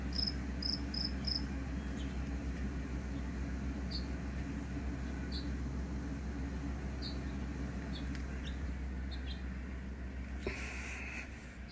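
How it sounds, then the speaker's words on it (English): A lone cricket chirps in Spokane, giving short, faint, evenly spaced trills over a steady low hum. No one talks. "Is that just one cricket?"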